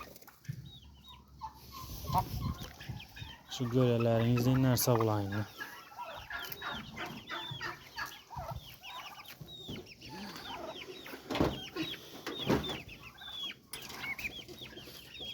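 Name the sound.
chickens clucking, hens and roosters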